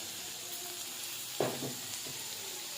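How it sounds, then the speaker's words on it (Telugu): Garlic dropped into hot oil for a chikkudikaya fry, one sudden sizzling burst that quickly settles to a faint crackle over a steady background hiss. "వెల్లుల్లి వేసేసి"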